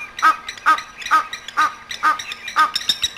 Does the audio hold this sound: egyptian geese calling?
yes